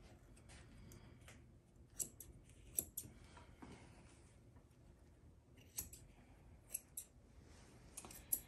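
Rounded sapphire scissors trim around the foot of an eight-week-old teddy bear schnauzer puppy during grooming, giving sharp, quiet snips at irregular intervals over a soft, faint background.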